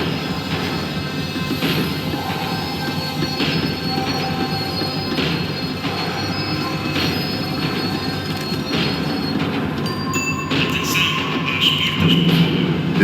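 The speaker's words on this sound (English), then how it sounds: "The tram was slowing down, and I'd only just gotten on board." Tram in Max Payne 3 braking to a stop, a steady loud rolling rumble with high metallic wheel squeal running throughout and rising slightly toward the end.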